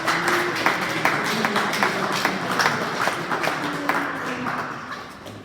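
An awards-night crowd applauds a champion handball team with sustained, dense clapping that gradually tapers off toward the end, moderately loud from the room.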